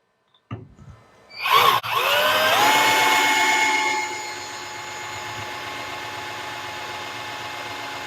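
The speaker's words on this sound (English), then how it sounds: "I'm going to go through there with about a 1/8 drill." A power drill with a 1/8 inch bit whirs up to speed, bites in loudly for a couple of seconds, then keeps spinning at a lower, steady whine, drilling a sandblaster's metering valve.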